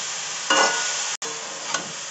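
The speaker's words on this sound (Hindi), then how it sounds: "अब इसे मिक्स कर लेना है।" Grated carrots for gajar ka halwa are stirred in a pan with soft scraping swishes and a low sizzle, a fuller stroke early on and a brief clack later, close and without talk.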